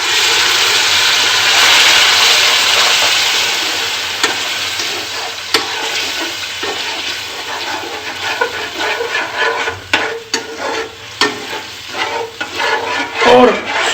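Pumpkin paste cooked down with jaggery for halwa is stirred in a pot, giving a steady scraping, bubbling sizzle up close that turns more irregular and clattery toward the end, with no talking.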